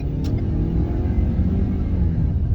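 A 2022 Ford Maverick FX4 with the 2.0 EcoBoost engine accelerates from inside the cabin, a steady low rumble of engine and road noise.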